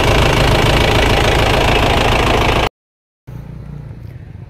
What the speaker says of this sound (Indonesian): sudah menggunakan mesin diesel Panther Turbo